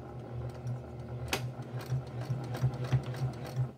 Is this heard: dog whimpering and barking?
no